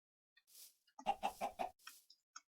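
Minecraft chicken clucking in a short burst of several quick, close clucks, with a few faint clicks around it and no talking.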